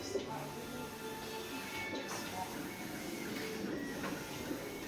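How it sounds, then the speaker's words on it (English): A large eco solvent printer with dual XP600 print heads runs steadily with a mechanical whir and hum while feeding paper, its print head sweeping back and forth with periodic swishes. "Automatic paper feeding system."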